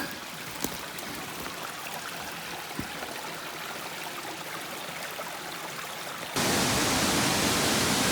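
River water flows steadily as a soft, broad rush, with occasional small knocks, then grows suddenly louder and closer near the end; no voices.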